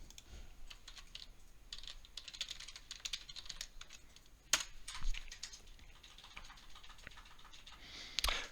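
Typing on a computer keyboard: quiet, rapid key clicks come in uneven bursts, with a few sharper, louder taps near the middle and the end.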